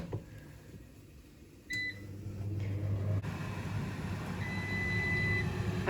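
Air fryer drawer set for a few extra minutes in a home kitchen, giving short electronic beeps as the timer is set, followed by the steady hum of the fan running.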